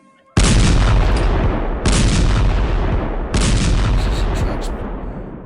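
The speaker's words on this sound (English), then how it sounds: "Oh, there's artillery." Artillery fire in the WW1 strategy game Strategic Command: three loud, booming salvos about 1.5 seconds apart, each a sharp onset fading into a long rumbling tail.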